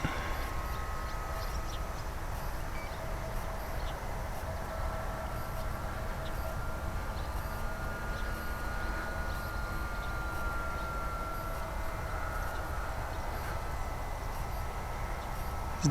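A 72-inch Piper L-4 Grasshopper RC model airplane flies under power with a steady, continuous electric-motor drone, holding even loudness with a faint higher whine over a low rumble throughout.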